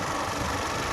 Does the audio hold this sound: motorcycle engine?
yes